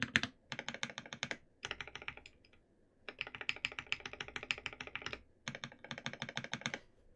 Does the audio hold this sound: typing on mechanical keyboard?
yes